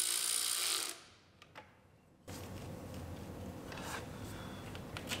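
A ratchet tightens a bolt on an engine part of a Mustang, quick clicking strokes running steadily up close after a brief quiet gap, with a few faint metallic ticks before.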